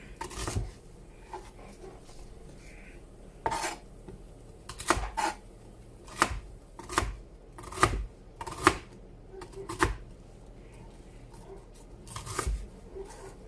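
Knife chopping Brussels sprouts on a cutting board, a series of sharp, close thuds and cuts, sparse at first and then more regular, with quiet room noise between strokes.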